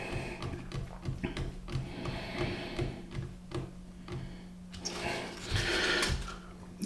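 A screwdriver drives screws into a Radiomaster TX15 radio transmitter case, giving close, steady ticking and whirring mechanical bursts with brief pauses, growing louder near the end.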